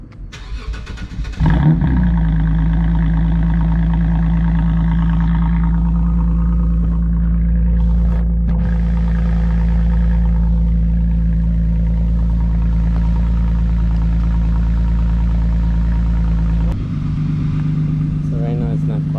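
A Lexus IS 350 F Sport with a resonator delete on its exhaust starts with a sharp crank and catch, then settles into a steady, loud, droning idle close by, with a brief blip near the end as people talk over it.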